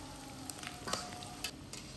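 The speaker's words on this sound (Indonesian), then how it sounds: "baru setelah itu kita goreng rempela hati ayamnya" Floured chicken gizzards and livers fry in hot oil, a steady crackling sizzle with scattered sharp pops and the occasional scrape of stirring, heard close with no talking.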